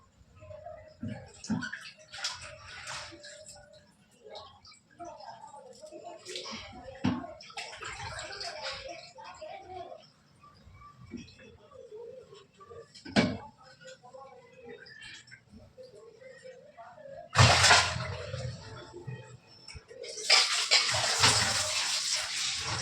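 Meat pieces are rinsed under running water in a bowl in a home kitchen while cooking dinner at night, with intermittent splashing and trickling, then louder gushing bursts near the end, as someone talks throughout.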